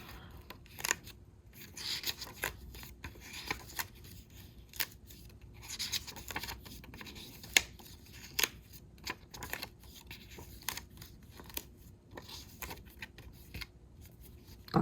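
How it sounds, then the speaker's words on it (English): Pages of a fabric swatch sewing journal turning, a steady run of dry papery rustles and flicks with sharp crisp snaps between them, close and fairly quiet, with no voices. "The reason I'm letting you hear how the pages turn"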